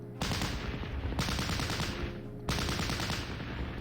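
Bursts of rapid automatic gunfire hit a light building in the wartime strategy game Battle Academy 2, three sustained volleys in quick succession, loud and rattling with no talk over them.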